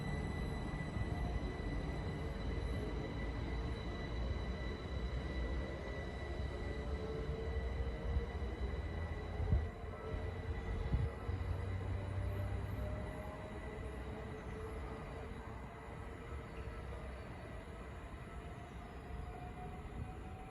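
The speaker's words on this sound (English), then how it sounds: "departing out now is the 11:53 Great Western Railway service from Decot Parkway to London Paddington" Great Western Railway service pulls out of Pangbourne station toward London Paddington, a steady rumbling roll of wheels and motors with faint squeals and a couple of knocks, fading slightly near the end.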